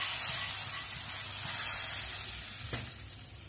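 Hot tempering oil sizzles and hisses steadily as it is poured onto mutton dal gosht, with a brief bubbling burst near the end before it settles.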